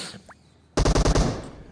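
Automatic gunfire in PUBG bursts in after a quiet moment, a rapid loud string of about six shots in even rhythm, close and dominant with a trailing echo.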